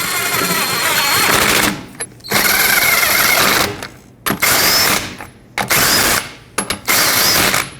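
Lug nuts are tightened on a 2003–2008 Toyota Corolla rear wheel in loud, rapid mechanical rattling bursts separated by short pauses, close up and without voices.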